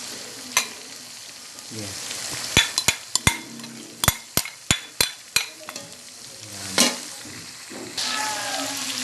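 Carrots sizzle in a pan with chicken Mongolian, a steady frying hiss broken by a run of sharp utensil clinks and scrapes against the pan, with brief speech near the start.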